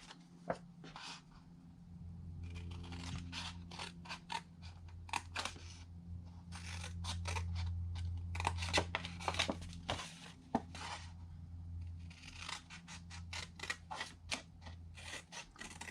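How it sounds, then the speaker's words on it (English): Scissors cut paper along score lines for a boxed notecard set, a quiet close series of crisp snipping strokes in irregular bursts, with no talk. "we will come in on the score lines, cut up, angle cut on all 4 sides"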